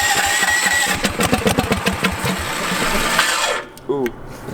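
A truck engine with the choke on cranks in a rapid, rough chugging burst, then catches and revs briefly before cutting out, loud and close, followed by a short voice.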